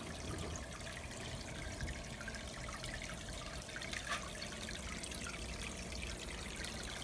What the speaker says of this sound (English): I realize that water noise is probably pretty loud.